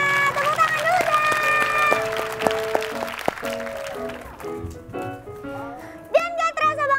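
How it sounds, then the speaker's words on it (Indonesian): Children clap at a festive Independence Day games show, their scattered applause mixed with bright tonal music and voices, the clapping loudest early and thinning out toward the end. "Tepuk tangan dulu dah"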